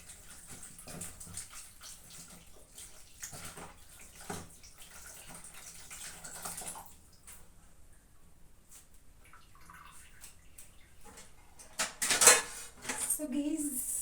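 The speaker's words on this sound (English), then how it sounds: "Bananas, I'm just going to wash them." Bananas being washed in water at a kitchen sink, with soft splashing, dripping and the occasional clink of dishes, plus a brief louder splash of running water near the end.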